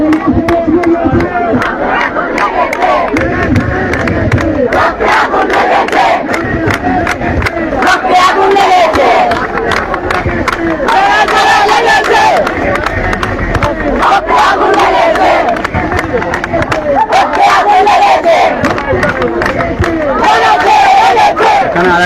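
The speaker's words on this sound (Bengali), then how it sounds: "সেই ফটকটি কিন্তু তারা বন্ধ করে বিভিন্ন ধরনের স্লোগান দিচ্ছেন" Students and their families chant protest slogans outside a shut main school gate, a dense, loud crowd roar of rhythmic shouted voices that continues without pause.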